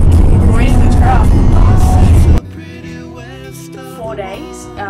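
Loud road rumble from inside a loaded truck on a long road trip, dense and steady for about two seconds, then cutting to a quieter cabin hum with people talking over it.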